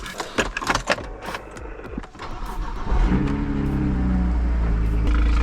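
A BMW 1 Series, running slightly rich and still unmapped, cranks and fires after some clattering handling noises, then settles into a loud, steady idle close by.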